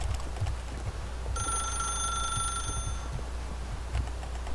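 An old-style telephone rings in The Stanley Parable video game: a bright electronic bell tone sounds steadily for about a second and a half over a low ambient hum, with no talking.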